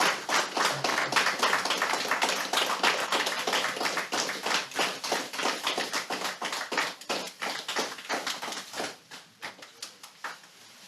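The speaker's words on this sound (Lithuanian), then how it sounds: "visi karštais plojimais paplokime Nerimantui Juciui" Audience applause greets the unveiling of Nerimantas Jucius's Dakar team motorcycle, a mostly blue bike bearing the Lithuanian Vytis emblem. Dense, sustained clapping from many hands carries on for about nine seconds, then thins into scattered claps.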